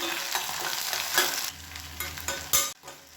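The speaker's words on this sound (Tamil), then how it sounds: "வெங்காயம் பூண்டு நல்லா வதங்கிடுச்சு" Shallots, garlic cloves and curry leaves sauté in a pan for a Tamil tomato curry, giving a steady close sizzle with occasional stirring scrapes and a brief louder burst near the end.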